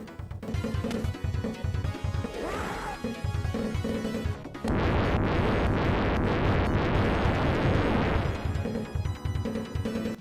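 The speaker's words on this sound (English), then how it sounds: "Fire Technique, summoning 4 dragons of flame that scorch everything in their path." Fire ninjutsu from the Sega Genesis game The Revenge of Shinobi, released in 1990: four flame dragons summoned to sweep the screen. A loud, sustained roaring burst of noise cuts in midway over rhythmic game music and holds for about three seconds before the music returns.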